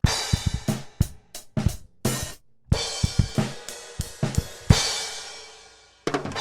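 A full drum kit recorded with four microphones plays a busy groove of punchy kick and snare hits with washing cymbals, loud and close, with a brief gap near the end.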